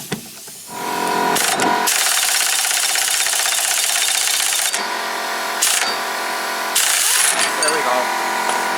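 An impact wrench set to high hammers at a 24 mm nut on a Mercedes-Benz W126 S-Class idler arm, loud rattling bursts, one long and several short, with brief pauses between.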